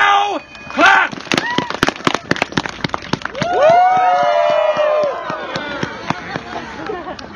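A crowd claps in sharp irregular bursts at a gathering, the applause dense and close, mixed with cheering voices and people talking loudly over it.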